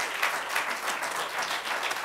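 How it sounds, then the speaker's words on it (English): A church congregation claps hands in praise during a Sunday service, a steady wash of many hands at close range. "Give the Lord a hand clap of praise."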